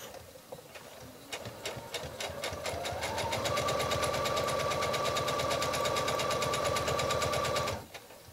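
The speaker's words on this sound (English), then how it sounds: "The first thing that I need to do is stitch this, and I'm going to stitch it about 1/8 of an inch away from the edge of the pocket" A sewing machine stitches a folded pocket hem about an eighth of an inch from the edge, with rapid, steady mechanical clatter. It starts gradually, speeds up into a continuous run, and stops abruptly near the end. No voices.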